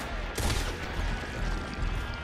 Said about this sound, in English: Jack was about to run into the gunfire